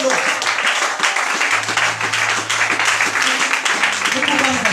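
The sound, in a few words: congregation applauding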